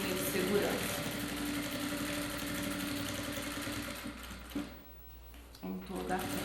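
Sewing machine running a safety edge seam along a shoulder bag with a zipper channel and gusset, a steady close motor hum that pauses briefly near the end and then resumes.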